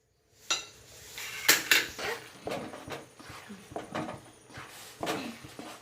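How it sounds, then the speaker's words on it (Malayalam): A pan is set down on a home stove to heat for jackfruit halwa, giving a few close metallic clanks and clatters with light handling knocks between them, no voices. "ഇനി പാൻ അടുപ്പത്ത് വെച്ചൊന്ന് ചൂടാക്കി എടുക്കാം."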